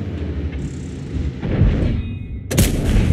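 A tank cannon fires in World of Tanks. Loud, close booms carry a heavy low-end punch, with a sharp blast at the end over the game's rumbling battle noise.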